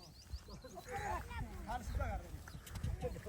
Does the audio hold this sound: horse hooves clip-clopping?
yes